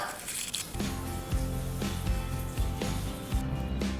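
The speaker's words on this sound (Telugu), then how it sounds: "ఇంకా మొత్తం కలిపేస్తున్నాను నీట్గా" Cake batter is stirred in a bowl with soft, wet, squishy strokes that repeat at a steady rhythm, set against a continuous tonal background.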